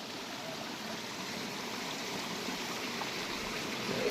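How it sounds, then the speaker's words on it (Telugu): Water rushes steadily at a small mini waterfall in green hills at Bodakonda, Telangana, a soft continuous flowing hiss heard from a short distance. "చూడు వాటర్ వచ్చేస్తుంది"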